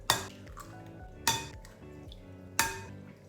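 Homemade eggs being mixed in a bowl, three sharp clinks of a utensil striking the bowl at regular intervals, each ringing briefly before fading, close and clear with no talking.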